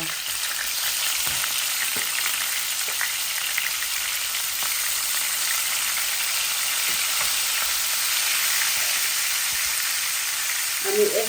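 Hilsa fish sizzling and frying in a pan, a steady, loud crackling hiss that carries on evenly throughout, with a soft knock near the end and no talking.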